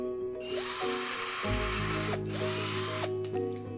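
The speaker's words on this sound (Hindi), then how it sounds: "फिर स्पीड से ड्रिल कर लेता हूं।" A power drill bores holes at speed, its motor whining up and holding a loud steady pitch, briefly easing off and spinning back up once, with a harsh hiss from the cutting.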